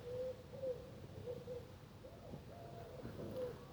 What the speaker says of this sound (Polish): Gołąb tylko tam rozprawia swoje, swoje, swoje rozmowy.